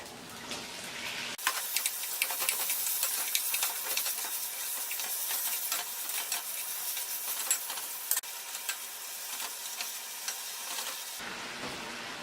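Pork frying with garlic in a pan for an Ilonggo-style Valenciana, a steady close sizzle with scraping stirs and spattering, no voices.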